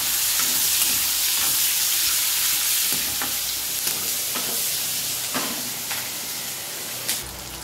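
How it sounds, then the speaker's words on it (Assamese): Onion, chilies, bay leaf and five-spice seeds fry in hot oil for a pork dish, giving a steady, close sizzle and hiss broken by scattered spatters and stirring scrapes. "আৰু ধুনীয়াকৈ মই ভাজি ল'ম।"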